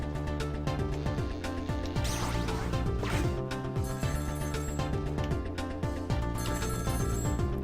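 A telephone in the game Ghost Trick: Phantom Detective rings on and on over dense game music, and the shrill bell stays loud and steady for the whole stretch.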